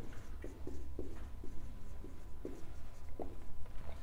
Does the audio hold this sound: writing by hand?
yes